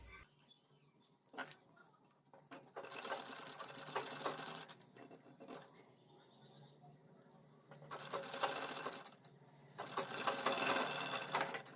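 A sewing machine stitches a collar onto a kurti in several separate bursts of rapid mechanical rattling, each lasting a couple of seconds, with quieter pauses between runs.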